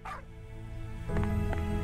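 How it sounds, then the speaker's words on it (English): A dog in the sci-fi anime MMORPG Soulworker gives a few short, sharp yips and barks over a steady droning game soundtrack. "Here comes a dog running up to you."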